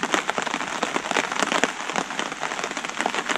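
Heavy rain pours steadily onto the ground around an outdoor bushcraft campfire site, a dense, continuous hiss of drops with close splatters, loud and unbroken throughout with no voices.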